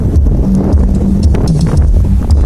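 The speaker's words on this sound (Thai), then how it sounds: "ลมก็แรงนะครับ" Strong wind buffets the microphone outdoors near a heavily used 23-year-old SK200 excavator, a loud continuous low rumble with gusty surges and no talk.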